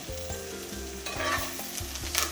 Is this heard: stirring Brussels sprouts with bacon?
yes